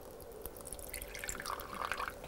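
A small amount of water trickles and drips into paper towels holding beans, a faint, close, steady splashing that grows slightly busier toward the end.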